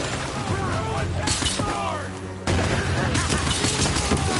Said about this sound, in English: Now watch when I throw the grenade